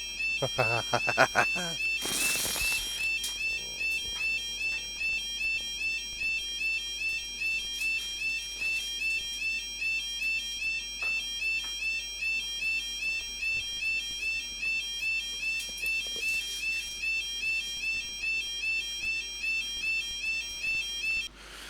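A level crossing warning alarm beeps in a steady repeating pattern throughout, faint and somewhat distant, after a brief burst of louder noise at the start.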